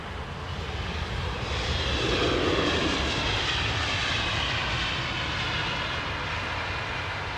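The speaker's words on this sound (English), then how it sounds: "that's going to be one of the A350s, the BA350s, isn't it?" A British Airways Airbus A350 jet roars past at London Heathrow, its engine noise swelling to a loud peak early on and then holding a sustained, slowly fading rush with no talk.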